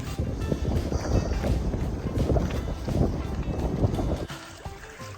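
Wind buffets the microphone while riding a bicycle over open gravel during a Belgian gravel event, a steady close rumble with crunching tyre noise beneath it.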